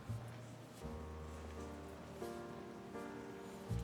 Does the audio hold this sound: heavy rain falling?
yes